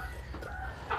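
A few chicken clucks and squawks from a backyard coop rise over a constant low hum, with a louder call near the end.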